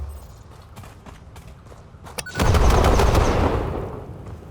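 A video-game explosion: a few scattered clicks and pops, then a loud, sudden rumbling blast with crackling debris that gradually fades over a couple of seconds.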